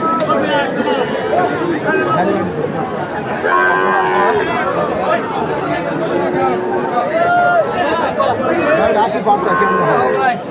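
Cattle at a cow market in Raniganj, Dinajpur, lowing in long drawn moos that repeat over a busy crowd, with people talking and bargaining close by.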